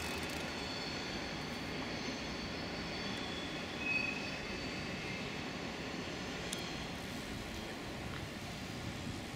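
Number 15 tram running on a grassy track beside a train yard in Basel, Switzerland, heard as a steady, fairly distant rumble over outdoor background noise, with a faint high wheel squeal.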